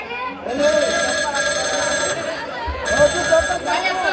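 A telephone rings in repeated electronic bursts during a comedy stage play, the tone steady and fairly loud while people talk over it.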